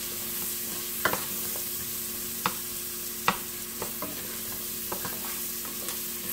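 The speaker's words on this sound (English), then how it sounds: "I'm just going to saute it for just a little bit." Chitterlings sauté in a pan with a steady broadband sizzle, punctuated by a handful of sharp utensil scrapes and taps against the pan, close and moderately loud with no talking.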